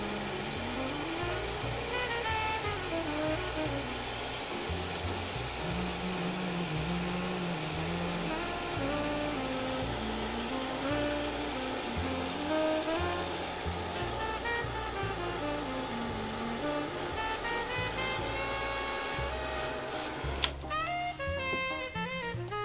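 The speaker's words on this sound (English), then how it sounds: "Now, heat gun." A heat gun blows continuously over melted UTEE embossing powder, a steady loud whirring hum with a shifting motor whine that cuts off sharply near the end.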